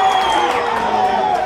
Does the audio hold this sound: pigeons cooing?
no